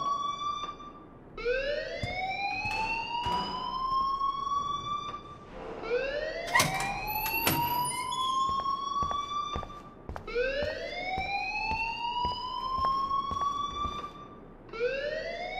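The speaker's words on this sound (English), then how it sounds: "please turn off that alarm since that's your job" A school fire alarm in the video game Life is Strange wails loudly in repeated rising electronic sweeps, each climbing whoop followed by another in a steady cycle, with sharp clicks scattered between them.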